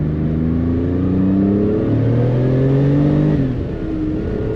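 An air-cooled Porsche 993 Turbo engine pulls hard under acceleration, loud and close from inside the car, its pitch climbing steadily through the gears with a brief dip at a shift near the end.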